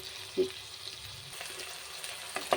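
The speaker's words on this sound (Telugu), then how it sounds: "టమాటా వేసిన తర్వాత ఒకసారి కలుపుకొని" Tomatoes stirred into a frying Telugu curry of soya and sukka kura greens, a soft steady sizzle with a couple of scraping stir knocks, close and alone.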